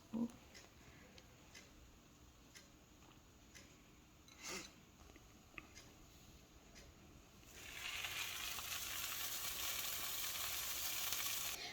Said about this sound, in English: Now the bottom has been frying for I'd say like 2-3 minutes